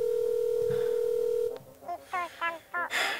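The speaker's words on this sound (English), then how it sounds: "Come on, Jasmine. Pick up the phone." Phone tones on a call waiting for someone to pick up: a steady dial-tone hum, then several short repeated ringing pulses, close and clear, with a brief voice in between.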